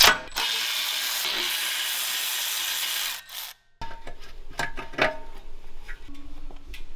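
Tools work at the exhaust muffler of a Trailmaster Mid XRX-R go-kart: a steady rasping, rubbing noise for about three seconds, then a short pause, then scattered close ratcheting clicks and metallic knocks, with no talking.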